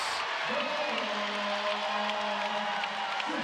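A volleyball arena crowd cheers and roars after a big block in an NCAA second-round match between Kansas and Creighton, a sustained wash of noise with a commentator speaking over it.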